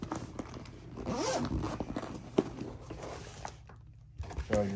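A zipper on a BX-25 gear case is pulled open in one long continuous unzip, close and fairly loud, with a short rustle of the case and handling noise at the end.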